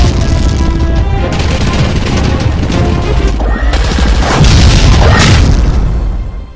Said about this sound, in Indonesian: pasukan Pakistan mengerahkan serangan udara yang meluluh lantahkan kelompok Abu Hamzah